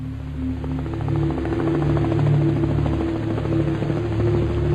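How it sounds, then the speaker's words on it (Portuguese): A steady helicopter drone with a throbbing rotor beat and low engine hum, fairly loud and continuous throughout. "O inimigo sabe como é o som dos helicópteros"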